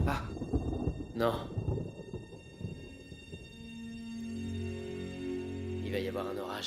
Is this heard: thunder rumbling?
yes